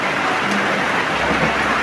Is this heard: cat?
no